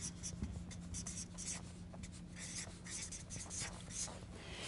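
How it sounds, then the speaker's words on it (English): Marker or chalk scratches across a board in a language lesson, a quiet run of rapid close strokes and taps with faint background noise and no clear talk. "And I'll write it in simpler terms."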